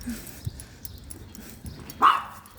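A dog outdoors gives one sharp, excited bark near the end, standing out over a low background murmur.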